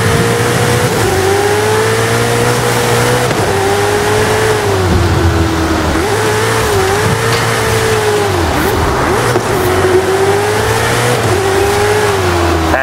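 A car in the racing game Forza Horizon 5 drives and revs with a loud, steady engine drone whose pitch rises and dips as it accelerates, with no talk over it.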